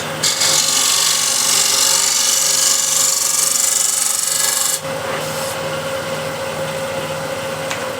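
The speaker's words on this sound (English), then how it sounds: "Shear scraper." A shear scraper cuts wood on a lathe, giving a loud, coarse rasping hiss for about five seconds before easing into a quieter, steadier scrape with a hum underneath.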